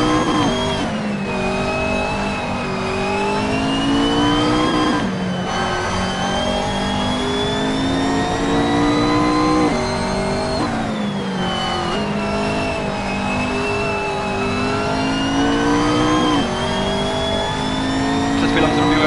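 A McLaren MP4 race car engine in Assetto Corsa screams continuously at high revs, pitch sweeping up through gears with brief dips at each shift, loud and sustained while someone talks over it.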